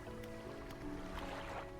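Boat engine in the video game Dredge, a low steady mechanical hum with faint watery splashes and soft clicks, quiet and continuous with no speech.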